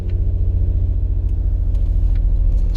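A 2007 Nissan Murano's 3.5L engine runs at a steady idle just after starting, a close, loud, even low rumble with a regular pulsing beat and no voices.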